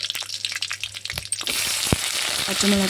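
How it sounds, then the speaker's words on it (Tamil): Mustard seeds, fennel and green chillies fry in hot oil with a steady, close crackling sizzle, a few pops and stirring clatter, growing denser over the last half. "கடுகு நல்லா பொரிஞ்சதுக்கப்புறம் சோம்பு போட்டுக்கலாம்."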